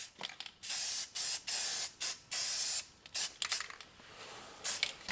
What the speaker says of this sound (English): I'm going to go ahead and use some primer here. Rustoleum's pretty decent.